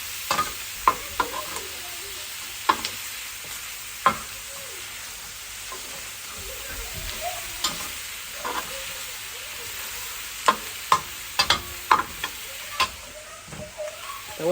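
Chopped onions fry in a pan, a soft steady sizzle under repeated sharp clicks and scrapes of stirring, spaced irregularly throughout, with no talking.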